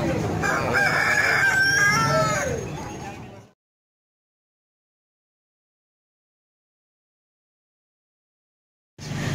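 Roosters crow loudly and close at a chicken market in Pasuruan, East Java, with chickens clucking among them for about three seconds before the sound cuts to silence, then briefly resumes at the end.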